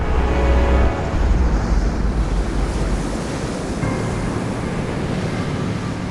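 Ocean waves and surf roll in a continuous loud wash, with wind buffeting the microphone and a slightly stronger surge in the first second.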